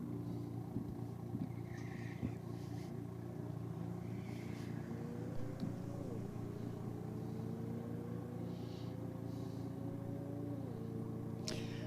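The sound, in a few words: BMW racing against a Volkswagen Golf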